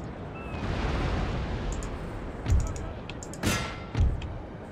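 Naval cannon fire rumbles during a sea battle in Napoleon: Total War, with a low continuous roar of gunfire and three distinct heavier booms near the end, one followed by a sharp crack.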